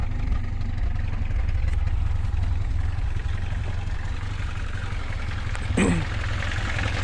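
A VAZ-2101 car engine idles steadily nearby with a faint rapid ticking of noisy valves in its rumble; a brief rising whine cuts through near the end.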